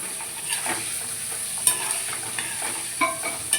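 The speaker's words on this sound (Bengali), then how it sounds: "এবার সমস্ত উপকরণগুলোকে আমি একসাথে ভাজব" Mixed vegetables with turmeric and salt fry together in a pan, a steady moderate sizzle broken by a few sharp stirring scrapes and clicks.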